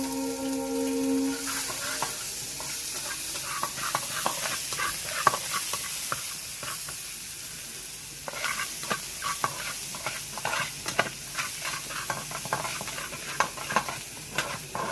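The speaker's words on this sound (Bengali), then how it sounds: "পেঁয়াজ আর লঙ্কাটা দিলাম, পেঁয়াজ আর লঙ্কাটা একটু ভেজে নিই" Onion and green chili fry in hot oil for a tadka, a steady close sizzle broken by repeated scraping clicks of a spatula stirring the pan in an irregular rhythm.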